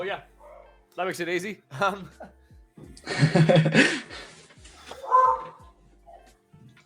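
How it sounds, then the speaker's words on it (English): An excited pet dog yips and barks a few times in a home, short bursts breaking in between people talking and laughing nearby. "Excuse my dog."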